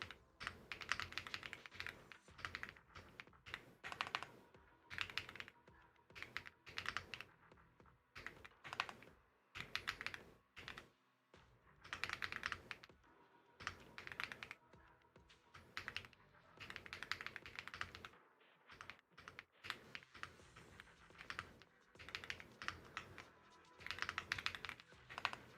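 Bursts of rapid typing on a computer keyboard, close-miked, clattering in uneven runs with brief pauses throughout, no talking over it.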